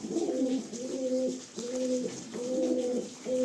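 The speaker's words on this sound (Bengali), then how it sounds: "প্রচন্ড ছটপটে পায়রাটা" A restless pigeon in a loft gives repeated low, throaty coos in a steady rolling rhythm, close and clear with no voices.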